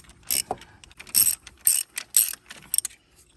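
A ratchet wrench fitted with a 5/8 spark plug socket clicks in quick bursts on a 2003 Jeep Grand Cherokee Laredo WJ, several short crisp ratcheting strokes separated by brief pauses, close up and alone.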